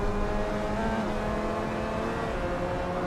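Steady engine drone of a Mazda MX-5 in a racing sim game, holding a constant tone with layered harmonics throughout, loud and continuous with no talk over it.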